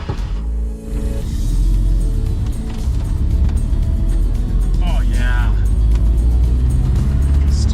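A Mazda Miata pulls away and drives on after a new alignment, its engine droning loud and close inside the cabin, with a brief squeaky sound partway through.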